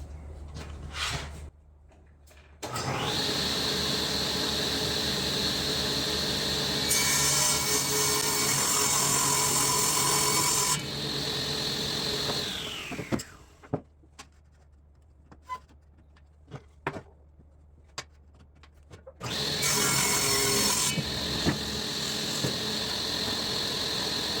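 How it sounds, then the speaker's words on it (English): A table saw rips ash wood boards in two long cutting passes, a loud steady whine with a higher-pitched stretch mid-cut, separated by quieter spin-down, clicks and handling noises, and no talk. "I have my table saw set to 18 inches, so I'm going to make 18-inch square, and we'll get to ripping this."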